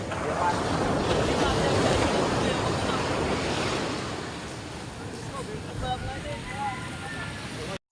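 Surf breaking on a beach, a steady broad wash of waves that stays loud for the first few seconds and then eases slightly, with wind buffeting the microphone throughout and faint voices audible near the end.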